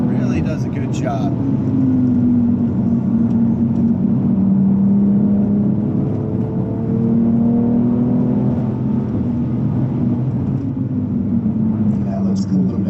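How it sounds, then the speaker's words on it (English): A 2019 BMW M2 engine pulls in second gear on a race track lap, a steady, loud mechanical drone whose pitch swells and eases as the revs change, with little exhaust crackle. "It's got a lot of engine note, not a lot of exhaust note."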